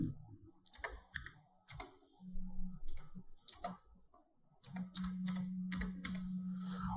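Quick bursts of clicking on a computer keyboard as a search is typed, close and crisp, with a low electrical hum underneath.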